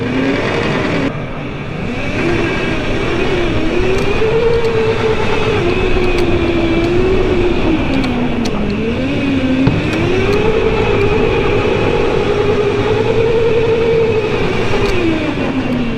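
An electric drift go-kart runs laps on an indoor track, with a continuous loud motor whine that rises and falls in pitch through the turns, over steady rolling noise.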